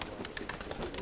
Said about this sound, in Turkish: Kuşu kuşların içinden kaldıracağız Harun.